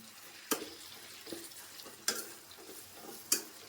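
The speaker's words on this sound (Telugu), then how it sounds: "ఆనియన్స్ వేగిన తర్వాత టమాటా కూడా వేసేసాను" Soft sizzle of onions and tomatoes frying in a pan for a tomato egg fry, with a few sharp scrapes and knocks of a spoon stirring against the metal, fairly quiet and close.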